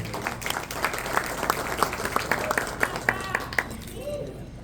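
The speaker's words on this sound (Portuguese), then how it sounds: "Aplausos." A conference audience at a Rotary institute event in Brazil bursts into steady applause, dense rhythmic clapping from many hands that carries on for several seconds before trailing off.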